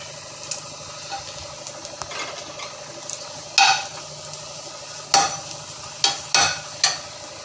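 Pieces of tamarind frying in oil, a low steady sizzle broken by several sharp clatters from a utensil against the pan.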